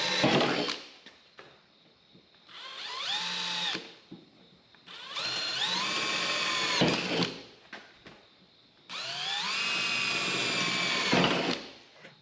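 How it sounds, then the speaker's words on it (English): Power drill boring small pilot holes with a small bit while installing a Bison Gear tire carrier on a Lexus GX470. Three long whining bursts of several seconds each are separated by short pauses and loud near the listener. "begin to drill our holes"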